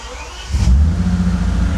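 Bentley Continental GT engine cranking and catching at about half a second, then settling into a loud, steady low rumble with slight revving, close by; a brief high whine accompanies the start.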